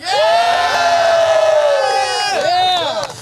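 A Brentwood crowd at the 2026 Music City Blitz cheers, a loud close burst of sustained whoops and high-pitched screams that swells, dips briefly and rises again.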